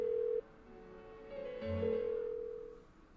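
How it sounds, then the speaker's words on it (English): Phone in the Persona 4 Golden game left ringing unanswered, a steady electronic tone breaking off and returning with a lower wavering note, faint and isolated with no talking. "Why won't she pick up the phone?"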